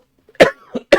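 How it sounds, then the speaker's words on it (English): A man's coughs from lingering illness, three short close bursts in about a second, the first and last loudest, recorded indoors. "sorry if I'm coughing."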